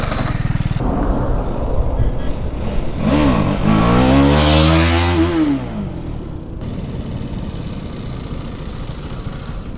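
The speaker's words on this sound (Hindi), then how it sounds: "मैं ये चला रहा हूँ फ्रेंड की अपाची।" A friend's Apache motorcycle, ridden on a trip around Nalsarovar in Gujarat, revs up loudly with a rising then falling engine pitch, set against steady wind and road noise.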